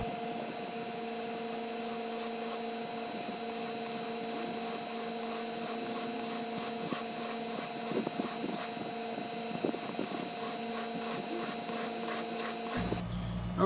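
A locksmith's chisel is rubbed back and forth on a diamond sharpening stone, producing a soft, repeated rasping scrape over a steady background hum, fairly faint, with no speech.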